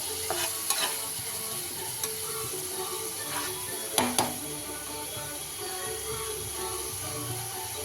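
Bengali-style masala paste for egg curry sizzles steadily in a pan as it is stirred, with a few sharp scrapes and clinks of the spoon against the pan; no one speaks.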